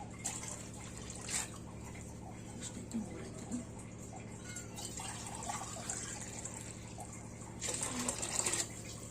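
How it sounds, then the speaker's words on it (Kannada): Two glasses of water are poured into a pan while making ghee rice, giving a faint, soft trickle and splash over a low steady background hum. "ಇವಾಗ ಎರಡು ಲೋಟ ನೀರು ಹಾಕ್ತಾ ಇದ್ದೀನಿ ನಾನು"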